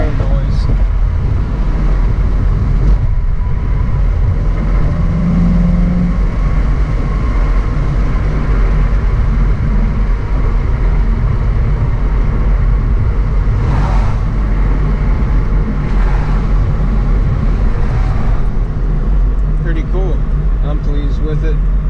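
A 2017 Subaru WRX fitted with a Nameless catback exhaust, muffler delete and 4-inch tips, heard from inside the car as a steady, loud low-frequency engine drone held throughout without variation.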